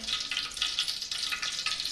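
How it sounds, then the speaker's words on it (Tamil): Oil bubbling hard in a pan while cooking a dried fish gravy, a continuous bright crackling sizzle with pops throughout, close and fairly loud. "பாருங்கள் எப்படி நல்லா எண்ணெய் கொதிக்குதுன்னு"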